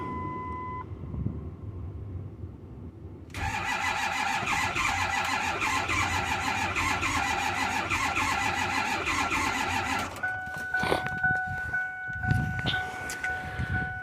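Cold start of a Ford F250 with the 6.4 Power Stroke diesel in near-zero winter weather: a steady, loud starter cranking drone runs for several seconds, then gives way to beeps and scattered knocks.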